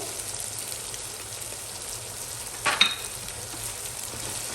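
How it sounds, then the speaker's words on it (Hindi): Ginger and garlic frying in a karahi for mutton karahi keep up a steady soft sizzle, with a short clatter and splash as spices are added partway through. "तो अब इसमें हम अपने स्पाइसेस डाल देंगे।"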